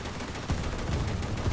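A 40 mm naval gun fires in War Thunder, a steady series of close, heavy thumping shots in quick succession over a dense battle din.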